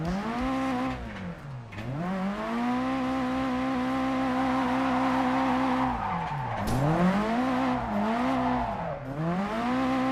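Drifting car in the video game Japanese Drift Master, its engine note rising and falling in repeated revving sweeps while tires squeal through oversteer slides, loud and continuous for the whole stretch with no talking.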